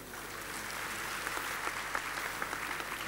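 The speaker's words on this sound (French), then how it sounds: "je vous demande de l'applaudir" Steady audience applause at a forum session on training for the mining and energy sectors, continuous clapping heard at moderate distance with a few sharper claps standing out.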